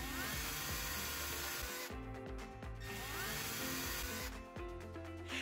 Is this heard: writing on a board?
no